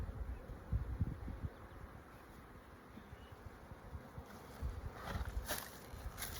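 A crowd of honey bees buzzes steadily on a heavy, sticky hive frame, a close, continuous low drone with brief handling bumps and rustles, and no talking.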